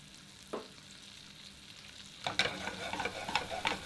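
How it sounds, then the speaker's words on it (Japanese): Potatoes sautéing in a pan with unsalted butter added at the end, a quiet sizzle that swells into louder crackling frying and stirring scrapes. "最後仕上げにバターを入れて、全体的に美味しいバターの香りを移していきます"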